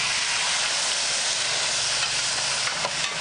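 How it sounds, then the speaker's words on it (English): A hot pan deglazed with about a tablespoon of balsamic vinegar for a crab salad with sun-dried tomatoes, giving a steady, loud, close hiss of sizzling and steam with no voices. "we'll add a little balsamic vinegar to it to deglaze the whole pan"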